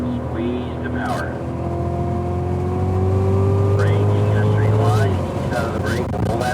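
A Cadillac CTS-V accelerates around the COTA race track, its engine drone rising steadily and loudly before easing off, while a voice speaks over the engine.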